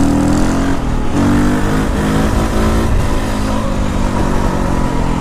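A KTM 525 dual-sport motorcycle roars loud and close as it is ridden up into a wheelie in a high gear, its engine note steady and unbroken throughout.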